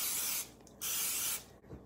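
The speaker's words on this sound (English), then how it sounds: "Spray, olive oil." Olive oil cooking spray hisses from a can in two short bursts up close, with a brief pause between them, while baking honey oat bran muffins.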